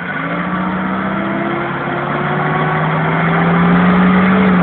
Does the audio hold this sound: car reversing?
yes